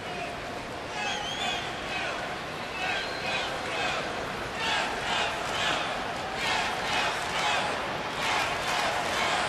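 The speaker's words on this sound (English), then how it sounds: "Crowd chanting, "Let's go Stros."" A large baseball crowd at a Houston Astros home game on a Friday night chants in rhythmic waves, the loud massed voices swelling and falling over steady stadium roar.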